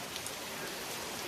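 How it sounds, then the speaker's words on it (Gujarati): Heavy rain falls on flooded farm fields in Dolvan taluka near Vyara, producing a faint, even, continuous hiss of drops with no other sound standing out. "બરાબર વરસાદ છે આ બાજુ"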